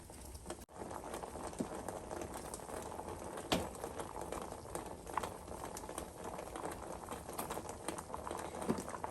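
Japanese clam soup seasoned with soy sauce bubbles in a pot with a soft, continuous patter of boiling, close and fairly quiet, with a couple of brief clicks.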